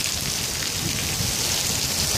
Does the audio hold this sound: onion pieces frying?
no